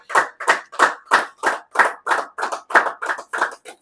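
A church congregation claps together in a steady rhythm, about two claps per second, bright and close, with no talk over it.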